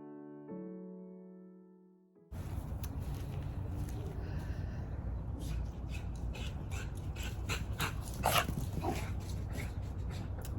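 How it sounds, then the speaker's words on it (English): Dogs bark and whimper intermittently outdoors in a winter garden during pruning, fairly faint against a steady wind-like rush, after a short musical intro. "the dogs start barking"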